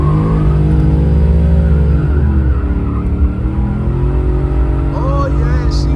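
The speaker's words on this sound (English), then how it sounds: "Watch how this old box Chevy come out the hole from a standstill" An old box Chevy with a 408 stroker engine pulls away from a standstill, its loud, deep exhaust rumbling steadily and rising as it accelerates, with a voice talking over it.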